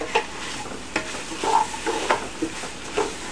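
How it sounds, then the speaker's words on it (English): Garlic and spices fry in a pan for a Peruvian-style kaniwa, quinoa and amaranth pilaf: a steady close sizzle broken by regular scraping stirs and light utensil knocks. "We're releasing the oils out of the spices, and the garlic is starting to cook."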